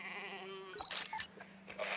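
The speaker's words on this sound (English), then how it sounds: "look, there's some more sheep" Sheep in the video game Ranger's Path: a drawn-out wavering bleat followed by clicks and scattered bursts, heard close and moderately loud with no talk.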